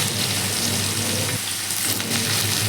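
Onions and garlic fry in oil with mustard seeds, giving a steady, close crackling sizzle with no talking.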